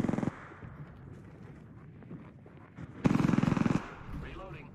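Apex Legends weapons fire in two sharp rapid bursts, a short one at the start and a louder rattling burst later, with softer game noise and a voice between them.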